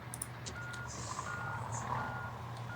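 A truck reversing in the Drivers Highway Hero driving game idles with a low engine rumble while faint, regular high-pitched backup beeps sound over it.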